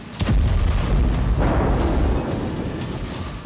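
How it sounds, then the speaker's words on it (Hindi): Bombing in Gaza comes through as news footage: a sharp blast opens a heavy, rumbling roar, a second boom lands midway, and the sound stays loud and dense throughout. "स्कूल पर बमबारी, शरणार्थी शिविर में बमबारी, मस्जिद पर बमबारी।"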